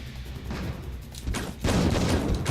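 Gunfire in the survival horror video game Resident Evil Code Veronica, a few muffled game shots and blasts in quick succession, moderately loud, with no talk.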